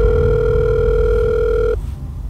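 A telephone tone, a steady electronic two-pitch sound held loud and close for nearly two seconds before cutting off abruptly, leaving faint room noise.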